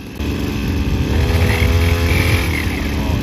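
A Mitsubishi gas-powered grass cutter's small engine starts up and runs at a loud, steady, buzzing idle close by, rising slightly in pitch as it settles.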